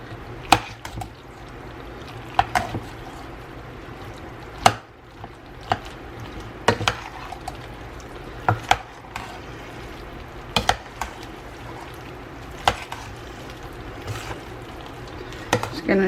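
Macaroni and cheese being stirred together, a soft wet squelching under repeated sharp scrapes and knocks of a utensil against the pot at irregular intervals, with a person talking intermittently.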